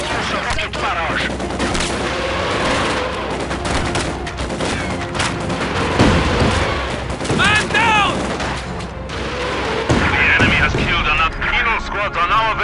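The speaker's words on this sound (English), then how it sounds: "We're taking small arms fire." Small arms fire crackles through a Company of Heroes battle at Stalingrad, with dense rifle and machine-gun bursts and heavier blasts layered together while soldiers shout over the din.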